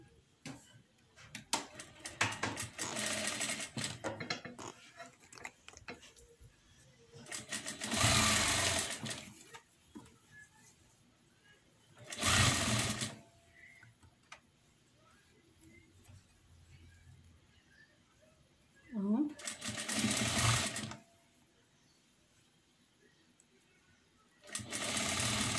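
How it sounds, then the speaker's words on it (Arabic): A sewing machine stitches the side seam of a simple women's garment in several loud, sustained bursts separated by quieter pauses with faint handling noises. "ببتدي خياطة من الجنب"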